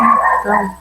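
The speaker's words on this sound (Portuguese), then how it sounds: "Desculpe pelos latidos." A pet dog barking and yelping indoors during an online meeting, a short close burst of high whining barks with a person beginning to speak over it.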